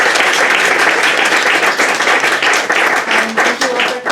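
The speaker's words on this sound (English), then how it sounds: "Give one more round of applause for Liana." A bookstore event audience gives a loud, dense round of applause for the author Liana, clapping continuously and fairly close for the full few seconds.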